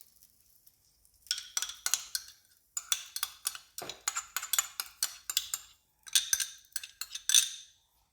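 Utensil scraping and clinking in a pan while beef filling is mixed, a quick run of sharp metallic taps and scrapes in bursts, close and fairly quiet, with no one talking.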